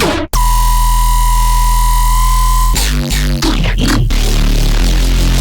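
A deep synth bassline with a heavy sub-bass layer, sustained tones shifting partway through, loud and alone with no voices.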